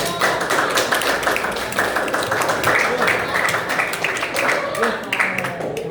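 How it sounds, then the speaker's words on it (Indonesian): A classroom of students breaks into dense, continuous clapping that holds at an even, loud level throughout, with voices mixed into the noise. "Sebelumnya kita beri tepuk tangan yang meriah dulu."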